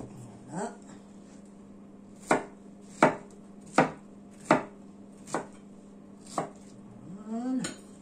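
A knife chops fruit for a homemade fruit salad on a board, with a series of about seven sharp, close, evenly spaced thunks and faint rustling between them, some quiet voice sounds near the start and end.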